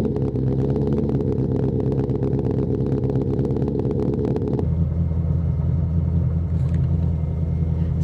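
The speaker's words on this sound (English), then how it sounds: "Now let me give you a cold start." A Shelby GT500 Super Snake V8 cold-starts and holds a loud, deep, rough rumble, then drops abruptly into a lower, steadier idle, heard close up with no talking.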